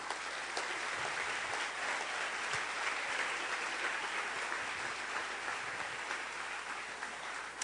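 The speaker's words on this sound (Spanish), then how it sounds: "Den un aplauso a nuestro Rey," A church congregation applauds during a Sunday service, a dense, steady wash of clapping from many hands that fills the room and continues for several seconds.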